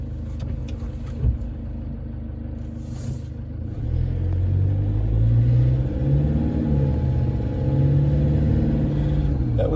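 A Toyota Hilux diesel engine rumbles steadily under load, then its idle-like drone thickens and grows louder with a rough, rattling texture as the throttle backs off, heard close and alone without talk.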